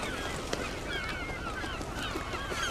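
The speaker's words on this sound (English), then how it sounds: "As we move up the island, the cormorants take to the air, exposing the nests" A cormorant colony on an island takes to the air from its nests, a faint, steady chorus of harsh croaking and honking calls over an outdoor background.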